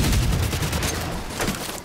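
Sustained AK rifle fire in The Division 2, a dense rapid burst of shots filling the short stretch, loud and continuous, with no speech.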